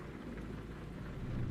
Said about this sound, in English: I understand it's raining